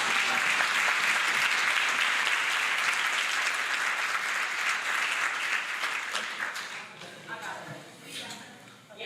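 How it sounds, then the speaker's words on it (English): Dense, loud audience applause for Leah Henry fills a conference opening session, then gradually thins and tapers off toward the end, with no voices on top. "we need to give Leah Henry a round of applause"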